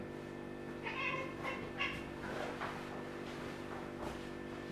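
A cat meows a few times at moderate distance, short calls in quick succession over a constant low electrical hum.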